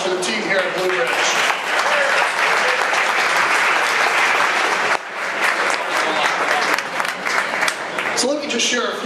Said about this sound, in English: please join me in a quick round of applause for the team here